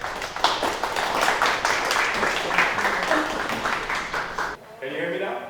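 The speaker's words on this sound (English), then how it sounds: "give a clap for my friend Max" Dense, steady applause from a conference audience at a 2024 business and digital event, filling the room for about four and a half seconds before cutting off abruptly.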